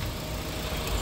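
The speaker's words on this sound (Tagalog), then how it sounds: "Tahimik pa ng makina, oh." A 2023 Mitsubishi Xpander with only about 2,000 km on it idles at auction, its engine giving a steady, quiet, even hum with no voices over it.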